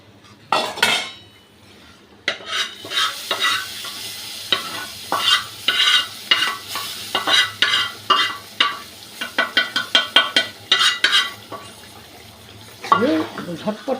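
Spicy chicken frying in a kadai is stirred with a utensil, giving repeated loud scraping and clattering strokes over a steady sizzle, with a short pause near the start and fuller stirring through to the end.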